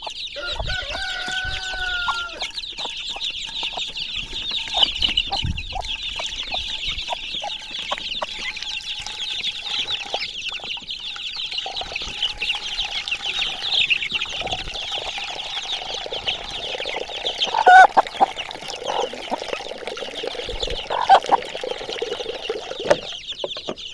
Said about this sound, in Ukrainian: Курочки похотіли.